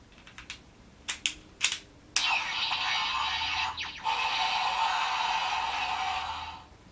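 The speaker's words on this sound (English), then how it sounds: "So some sort of charge up sound and a dinosaur sound. And then pulling the trigger." A Power Rangers Deluxe Dino Saber toy gives several sharp clicks from loading, then a loud, sustained electronic charge-up whir that runs for several seconds with a brief dip midway.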